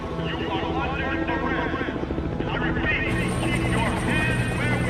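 Steady, loud helicopter rotor thumping throughout as the helicopter launches an attack in a film, with dramatic music and voices layered over it.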